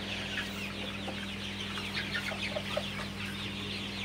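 Sonali chickens in a poultry shed holding about 1500 birds, soft overlapping clucks and murmurs over a steady low hum, close and fairly quiet.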